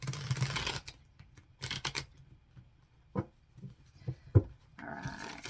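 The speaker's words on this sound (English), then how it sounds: "Just do a quick shuffle" Tarot cards shuffled by hand in a few quick bursts of riffling and flicking, close and fairly quiet, with short taps and pauses between, no talking.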